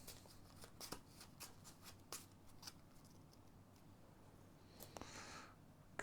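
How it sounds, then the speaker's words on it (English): Playing cards from a Marvel Champions card game are shuffled back into a deck, a series of quiet riffling bursts and soft flicks close by in a hushed room, with a longer riffle near the end. "we get to shuffle it back into my deck"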